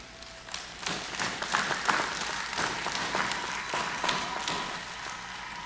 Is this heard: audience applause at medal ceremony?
yes